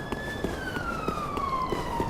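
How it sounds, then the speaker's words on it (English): A siren in Dark Souls 3's Grand Archives, one long wailing tone that slowly falls in pitch, moderately loud, over a rumbling background with faint periodic thuds. "You hear the siren."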